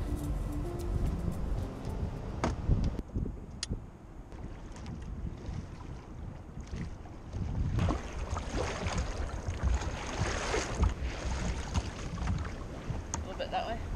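A cruising sailboat motors into a night anchorage at Coches Prietos, its engine a low, steady rumble under gusty wind noise on the microphone and splashing water, with no talking.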